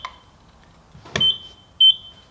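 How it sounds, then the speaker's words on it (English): Lifesaver LIF10YPEW wireless smoke alarms shutting down their network give two short, high electronic beeps, one after a click near the middle and one just before the end, in an otherwise quiet room. "2 beeps count down to shut down, and they're all shut down"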